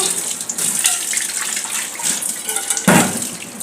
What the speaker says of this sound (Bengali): হ্যাঁ, দুধটাকে ঢেলে ফেলেছি।